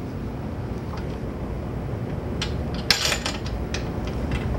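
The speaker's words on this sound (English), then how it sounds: "raise the table to within about 1/2 an inch or so" A woodworking drill press table is cranked upward, producing a low mechanical rumble with scattered clicks and a sharper clack partway through, close-up and without speech.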